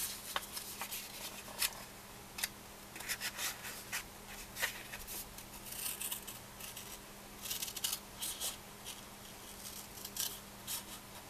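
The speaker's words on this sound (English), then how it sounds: "And we'll cut it on the score line." Scissors snip and crunch through layered paper along a score line while a wallet-style waterfall album is being made, giving close, irregular cutting bursts with rustling between them over a quiet room hum.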